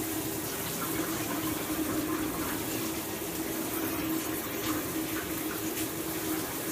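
Water runs continuously while hair is being rinsed, a steady, moderately loud splashing rush with no speech over it.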